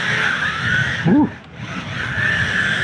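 An MJX 14303 Citroën rally RC car power slides across a rough surface with a steady high electric motor whine and scrabbling tyre noise, briefly swelling then dipping before resuming.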